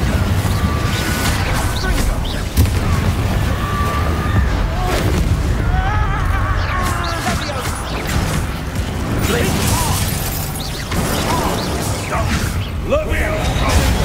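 Confringo fire spells blast repeatedly in Hogwarts Legacy, a dense, loud run of booming explosions and crackling mechanical game effects layered over a continuous busy combat soundscape.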